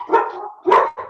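A dog barks twice during a conference call, with loud close yaps and a shorter third bark just after.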